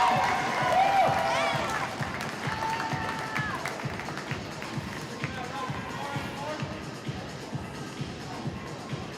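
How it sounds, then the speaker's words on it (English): Crowd cheering at a women's ice hockey game between Adelaide Rush and Melbourne Ducks, a steady broad roar of fans after a save, with a commentator talking over it throughout. "The crowd cheer."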